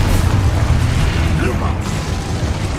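Explosive spell blasts in the Hogwarts video game, a loud continuous rumble of bursts and magical booms with dense mechanical clatter, and a voice is heard under the noise.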